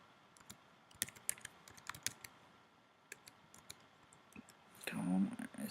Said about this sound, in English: so I type the URL